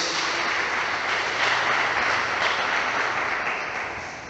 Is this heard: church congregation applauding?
yes